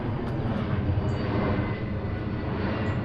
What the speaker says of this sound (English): You might hear some planes going overhead.